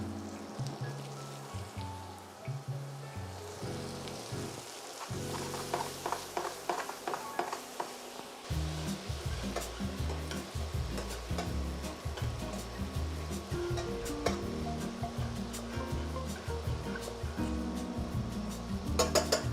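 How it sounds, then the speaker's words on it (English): Diced pancetta fries in a pan with rosemary and butter, a steady close crackle and hiss running for a long stretch, with occasional utensil scrapes and clatter over soft background music. "Once your pancetta starts to sweat a little bit, you're then going to want to toss in your rosemary and butter."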